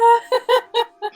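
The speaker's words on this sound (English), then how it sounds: "Anyway, you hear the birds." Bird calls used as a sound effect during a tabletop role-playing session, five quick clucking, crowing-like bursts in a rapid rhythm, loud and close against silence.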